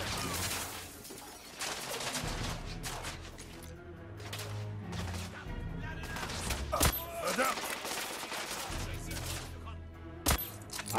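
Sustained gunfire in the shooter game The Order: 1886, dense bursts of shots and crashes layered over a continuous battle soundscape, with a voice talking over it in places.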